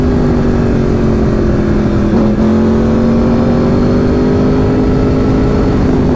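A superbike engine revs hard against its rev limiter, a loud, close, steady high-pitched roar held for several seconds with a brief stutter partway through.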